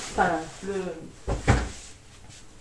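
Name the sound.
drawer of a storage box opening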